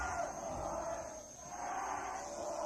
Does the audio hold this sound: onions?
no